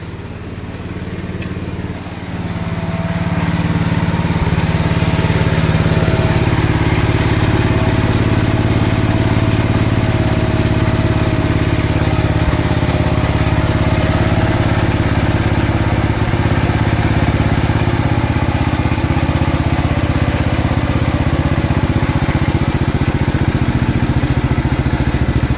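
Gravely 816 garden tractor engine idling high, a steady loud mid-pitched drone with a faint whine, rising after a quieter first few seconds and then holding constant, no talking.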